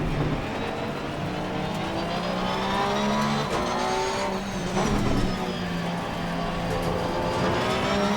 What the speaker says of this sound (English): This craziness, cars going everywhere.